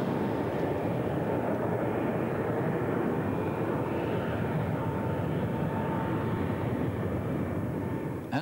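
A BAC One-Eleven jet airliner dives at its maximum permissible descent rate, giving a steady, broad roar of airflow and engine noise, fairly quiet and unbroken throughout.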